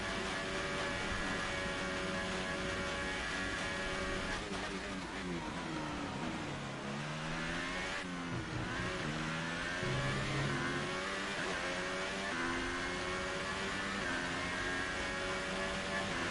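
A Formula 1 car engine in F1 2018 at the Japan race screams at high revs, dipping and climbing through gear changes with sweeping pitch shifts, loud and continuous with no talking.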